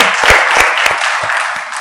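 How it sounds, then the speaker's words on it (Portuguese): Audience at a women's business networking event breaking into brisk, close applause, a dense burst of clapping that fades slightly toward the end. "Palmas para o poder das mulheres,"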